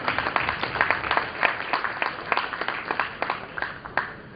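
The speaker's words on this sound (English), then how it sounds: "A big round applause for him" A Rotary event audience applauds a speaker, a steady patter of many hands clapping at moderate volume, heard in a hall without other voices.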